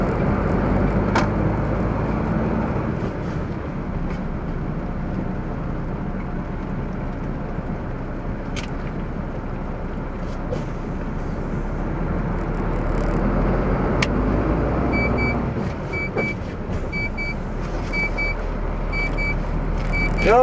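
Cars come and go one after another along a road, a steady broadband traffic rush that swells as each vehicle passes, with faint repeating beeps toward the end.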